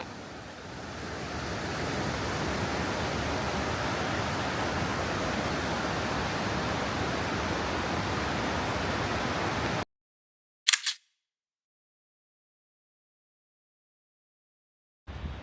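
Waterfalls in Daisetsuzan National Park, Hokkaido, roar as a steady, dense wash of rushing water for about ten seconds before cutting to near silence, with only a brief faint knock afterward.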